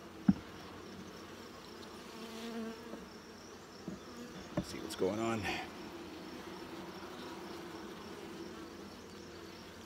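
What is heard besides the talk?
bees buzzing in a hive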